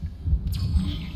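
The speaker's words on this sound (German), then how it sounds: "einen Herzschlag" A steady, low, throbbing heartbeat from the video game Dead Space Remake thuds in a slow, muffled rhythm under a faint ambient hum.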